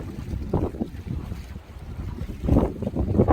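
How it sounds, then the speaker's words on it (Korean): Strong wind gusts at a seaside breakwater roar in uneven surges against the microphone, with water sloshing below and no talk. "바람이 물살을 에이, 예, 출렁이게끔 할 정도로 바람이 강하게 불고 있습니다"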